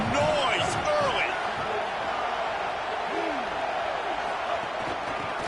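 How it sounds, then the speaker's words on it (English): A football stadium crowd keeps up a constant, loud roar of massed voices early in the game, with scattered shouts rising above it while a commentator talks over the noise. "This crowd bringing the energy and noise early."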